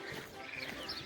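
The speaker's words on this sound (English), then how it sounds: "And the birds." Birdsong on a spring morning along the Camino Francés in Spain, with faint high chirps and calls carrying from a distance over steady outdoor ambience.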